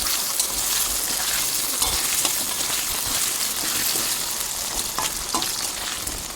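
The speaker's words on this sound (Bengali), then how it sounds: "একটু ভাজা করে নেবো।" Cut potato pieces frying in hot oil give a loud, dense, continuous sizzle with occasional stirring scrapes, close up and without speech.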